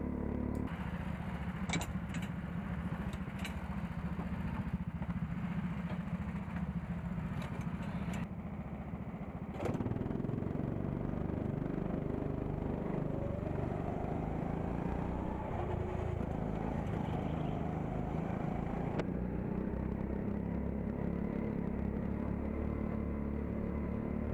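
Race car engine droning steadily through a championship heat at Castle Combe circuit, a continuous loud rumble with a shift in tone partway through as the car changes pace, no talking.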